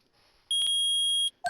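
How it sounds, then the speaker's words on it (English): A metal detector in the Phoenix Wright courtroom video game gives one loud, steady electronic beep of nearly a second, alone after a faint start and followed by a short tone. "I permit the use of the metal detector."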